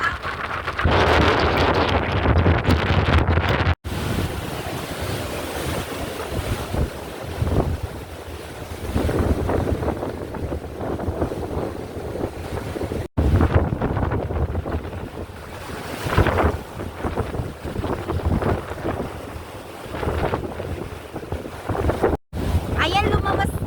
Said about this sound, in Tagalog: Ang lakas-lakas ng alon.